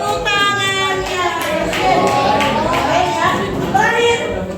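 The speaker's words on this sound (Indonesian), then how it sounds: "Tepuk tangannya" Students in a classroom clap for a classmate's correct answer. The clapping is loose and mixed with overlapping young voices.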